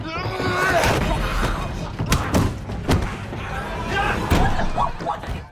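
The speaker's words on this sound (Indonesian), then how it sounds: "dia malah menutup pintu" A train carriage door slams shut in the zombie film Train to Busan, a few sharp thuds cutting through a busy scene under steady narration.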